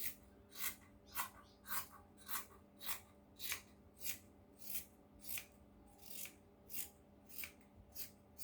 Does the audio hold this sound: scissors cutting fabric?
yes